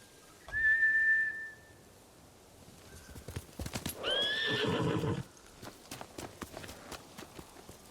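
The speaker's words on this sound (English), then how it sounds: "Bastards scared off the horses." Horses in Ghost of Tsushima give two loud, close whinnies. Clip-clopping hooves run between and after the calls.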